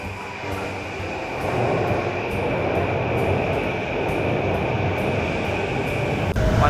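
Japanese commuter train running on a rail line near Tokyo Station, a steady close rumble with rhythmic wheel clatter and a constant high whine inside the carriage, no voices.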